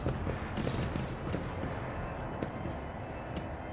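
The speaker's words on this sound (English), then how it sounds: "Fire the cannons." Macro cannons firing aboard a starship in Warhammer 40k Rogue Trader: a continuous heavy rumble of deep booming salvos with scattered sharper cracks, loud and sustained throughout with no talking.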